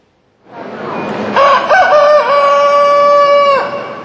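At Matosinhos market in Portugal, a rooster lets out a single loud, close crow, rising into a long sustained call that lasts about two seconds before cutting off, with a few soft clucks before it.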